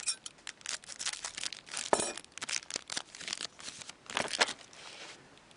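Foil packs of KHL 2012-13 hockey trading cards are torn open and crinkled close up, giving bursts of ripping and crackling wrapper noise with short pauses between them and no talk.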